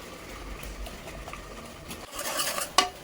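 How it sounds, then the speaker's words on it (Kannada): Turmeric and onion paste frying in oil, a low sizzle under scraping and clinking of a utensil against the pan, with a louder stirring burst and a sharp metallic tap near the end. "ಈ ಥರ ಅರಿಶಿನ ಈರುಳ್ಳಿನ ಚೆನ್ನಾಗಿ ಎಣ್ಣೆನಲ್ಲಿ ಹಸಿ ವಾಸನೆ ಹೋಗೋವರೆಗೂ ಫ್ರೈ ಮಾಡ್ಕೊಳ್ಳುವ."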